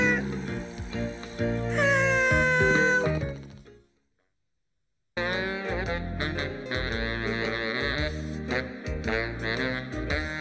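A cat meows in drawn-out, wavering cries over a busy musical backdrop, followed by a brief silence and then more music with sharp accents.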